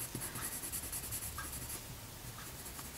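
Pencil shading over layered graphite on Saunders Waterford 140lb hot-pressed paper, a soft steady scratchy rubbing with short repeated strokes, quiet and close.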